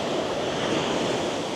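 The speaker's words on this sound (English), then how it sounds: "You can see the waves coming in." Ocean surf rolling onto Little Fistral Beach in Cornwall, a steady, broad roar of breaking waves with wind noise, close and continuous, no voices.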